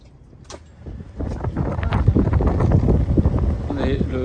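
Wind gusting around a sailboat at sea off the Ayvalık archipelago in Turkey, blowing about 10 knots, a steady rushing roar against the microphone with buffeting bursts, while voices talk over it.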